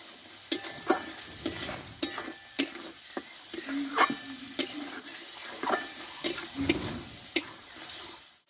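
A thick spice paste for a karela dish fries in a pan while a spoon stirs and scrapes it, sharp clinks and scrapes landing in a loose rhythm over a steady soft sizzle, close and with no talking.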